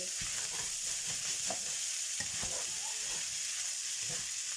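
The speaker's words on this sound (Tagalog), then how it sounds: "Prito lang, prito." A steady, bright sizzle of garlic frying in a hot pan for fried rice, with occasional stirring scrapes and soft clicks.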